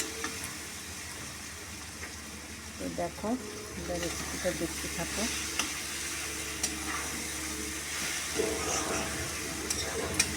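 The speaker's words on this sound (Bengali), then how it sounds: "খুব সুন্দরভাবে ভাজা ভাজা হয়ে যাচ্ছে, সব কষে যাচ্ছে।" Cabbage curry with peas sizzles in a kadai while a spatula stirs and scrapes it in bursts, a low frying hiss running beneath a voice that talks over part of it.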